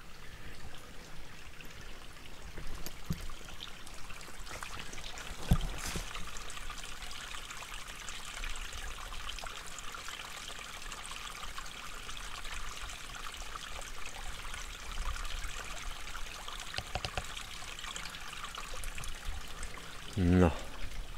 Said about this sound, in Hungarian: itt vagyunk a szokásos pataknál